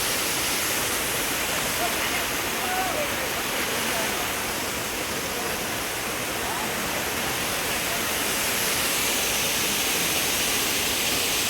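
Steady, loud roar of rushing water at Rabandhara waterfall near Bhawanipatna, a dense continuous wash filling the whole stretch without break.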